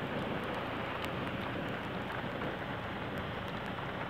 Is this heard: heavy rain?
yes